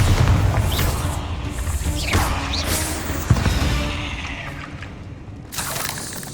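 Bombarda blasting spell exploding in Hogwarts Legacy gameplay, a dense rumbling mix of booms, whooshes and debris crashes with a sharp thump near the middle and a fresh surge at the end.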